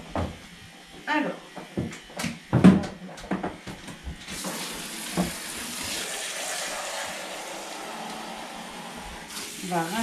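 After a few seconds of close clattering and a voice, tap water runs steadily into a sink for rinsing, a constant near hiss that carries on for the rest of the clip with brief speech over it.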